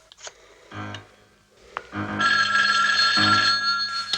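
Old telephone bell from the 1978 film Halloween, ringing in loud repeated bursts with short gaps between them, close and clear.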